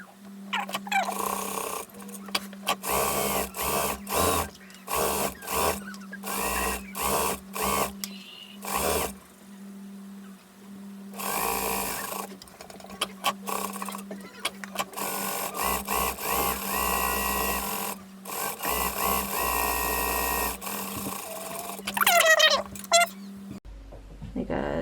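A sewing machine top-stitches suspender and bow tie fabric in repeated short bursts, stopping and starting with a steady hum underneath, while a person talks intermittently between runs.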